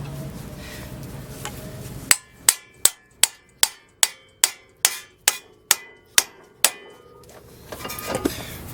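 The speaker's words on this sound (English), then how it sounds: "Now we'll go in there with a pickle fork." Twelve sharp, evenly spaced hammer blows ring out close by, striking a pickle fork wedged into a car's suspension ball joint during an engine swap removal, with a brief clatter afterward.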